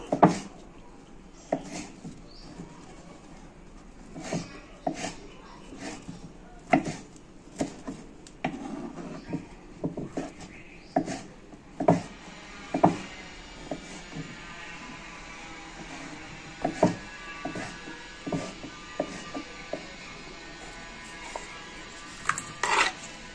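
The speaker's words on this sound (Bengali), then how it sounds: "একটা একটা করে ফুলুরিগুলিকেও একদম কুচি কুচি করে নেব" A knife finely chops fried fulori fritters one by one. Sharp, irregular taps and thuds on the cutting surface come in quick bursts with short pauses, close and clear with no talking.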